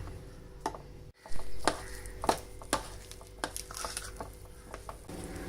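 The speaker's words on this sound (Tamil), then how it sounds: "இப்போ தேங்காய் பாலை சேர்த்து இந்த மாவை கொஞ்சம் நல்லா மிக்ஸ் பண்ணிக்கலாம்" Batter of flour and coconut milk being mixed in a bowl for sweet achu murukku gives a series of soft wet taps and clinks, irregular and close, with quiet background hum.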